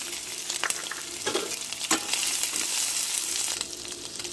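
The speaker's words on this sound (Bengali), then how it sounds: "সেই কড়াতে তেল দিলাম, কিছু পেঁয়াজ কুচি করা আছে, রসুন কুচি, ভালো করে ভেজে নেব। ভেজে রাখা চিংড়ি মাছ দিয়ে দিলাম" Fried prawns tossed into hot oil in a wok with chopped onion and garlic: a loud, continuous sizzle broken by several sharp stirring clatters and scrapes.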